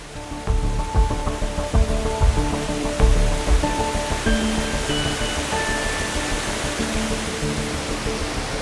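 Steady broadband rush of a waterfall at a scenic landscape photography location, continuous and fairly loud throughout with no talk.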